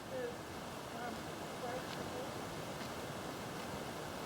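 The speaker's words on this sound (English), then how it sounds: "Oh, the spray of the water, yes." Steady broadband rush of water spilling over Douglass Weir in Berrima, Southern Highlands, continuous and fairly loud, with wind-like hiss and no distinct breaks.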